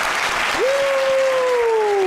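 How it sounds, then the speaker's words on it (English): A podcast live audience claps in a steady wash of applause, with a long tone drawn out above the clapping. "Can we get a hand clap for Teller?"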